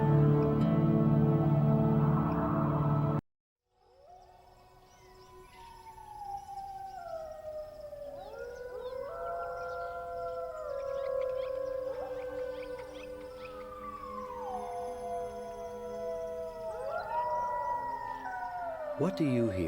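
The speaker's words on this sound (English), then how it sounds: "What do you hear in the lonely howl of the wolf?" Several wolves howl in long, overlapping glides that rise and fall and layer into a mournful chorus, strong and steady, after a few seconds of a voice that cuts off to silence.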